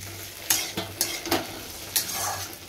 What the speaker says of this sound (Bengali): এখানে ডিম আর আলু সব রকম মশলা দিয়ে কষানো হচ্ছে